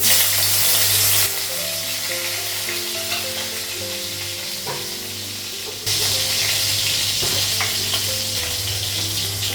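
Dry red chillies fry in hot oil in a wok with a loud, continuous crackling sizzle that swells sharply twice, with no voices over it.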